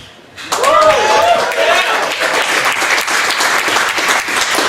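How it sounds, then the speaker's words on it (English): Loud audience cheering and applause at a startup night event, with whoops and shouts rising over sustained clapping right after a brief quiet start, continuing steadily to the end. "let me hear your cheer for these people here."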